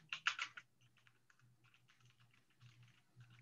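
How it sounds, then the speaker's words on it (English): Quiet typing on a computer keyboard in a video call, with a quick burst of clustered keystrokes at the start and then sparser, softer taps spread across the rest. "I'm trying to see what you're typing there."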